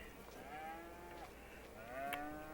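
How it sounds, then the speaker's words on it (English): Cattle lowing in the farming game Farming Simulator 22, two long drawn-out moos one after another, fairly close and clear with no talk over them. "Boy, you cows are noisy."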